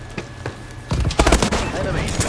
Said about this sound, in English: I didn't think it was a three round burst